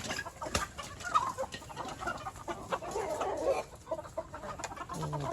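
Red junglefowl clucking softly in a yard, scattered short clucks over a steady rustly background, fairly distant and low in volume.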